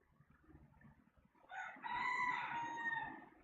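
A rooster crows in a video game, one drawn-out cock-a-doodle-doo rising out of low background rumble and fairly loud in the second half.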